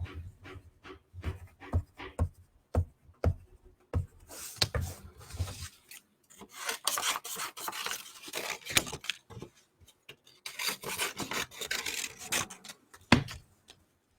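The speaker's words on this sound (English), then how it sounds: "what I like to do with the paper bag is, make some drawings on it" Pen or marker drawing on a paper bag, heard as scattered short scratchy strokes and rustles of paper, close and fairly quiet, with denser bursts of scribbling later on and no talking.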